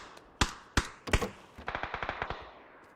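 Gunfire in the battle royale game PUBG: three separate sharp shots, then a rapid automatic burst of about eight rounds, fairly close and with no talking.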